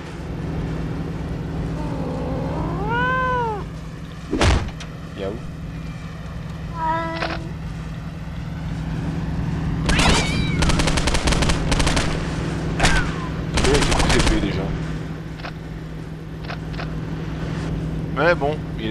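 Gunfire in the Postal 2 video game, fired through a cat used as a silencer, with cat meows near the start and bursts of shots later over a steady game hum.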